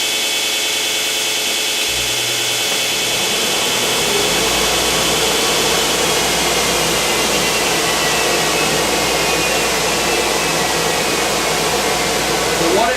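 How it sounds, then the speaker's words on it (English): A belt sander in a studio workshop starts up and runs continuously, a loud, steady whirring roar that builds over the first seconds and then holds evenly. "Okay, so now I'm going to turn on my belt sander."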